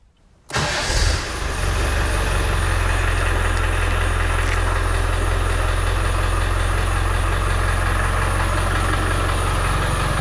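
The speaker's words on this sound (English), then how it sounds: "crank her over and just" A Land Rover Defender fitted with a lithium battery cranks briefly, then catches and settles into a loud, steady idle that runs unbroken at close range with no talk.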